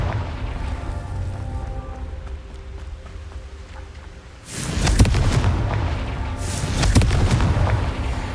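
A quiet, humming stretch gives way to a Confringo spell explosion in the Hogwarts Legacy video game, a loud booming blast followed by a second rumbling burst a couple of seconds later.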